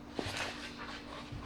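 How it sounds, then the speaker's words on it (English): A pet dog whimpers and pants softly in a room where a porcelain butter crock is being shown, with a brief yelp near the start and faint breathy sounds continuing in the background. "it's our dog Sophie in the background."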